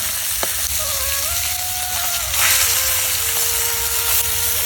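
Koi fish frying in hot oil with a steady, loud sizzle that swells briefly as the pieces are flipped, with a faint whistling tone running underneath.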